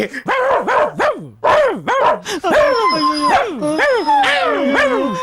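Two dogs fighting, snarling, yelping and howling in rapid, overlapping bursts, loud and close, with rising and falling whines throughout.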